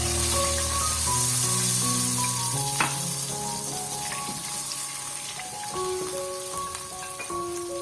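Water is poured into a hot pan of fried crushed red chili, setting off a loud, continuous sizzle with crackling spits. The hiss is strongest at first, then settles to a steadier fry.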